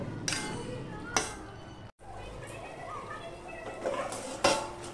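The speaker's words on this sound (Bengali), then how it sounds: "সব ঢেলে দিয়ে আমি সমস্তটা নেড়ে নেব।" Metal utensil clanks and scrapes against a pan as vegetables with raw chickpeas are stirred, a few sharp knocks spaced apart, with soft voices in the background.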